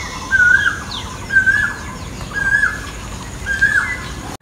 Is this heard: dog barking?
no